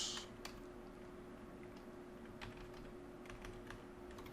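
Brief keyboard shortcuts typed on a computer keyboard during a Portuguese programming lesson, a few crisp clicks and key taps spread over a steady room hum with no talking.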